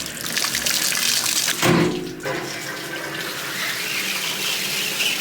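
Steady water runs throughout a quick rinse, likely a shower or tap, a continuous hiss with a brief louder splash near the middle and no talking.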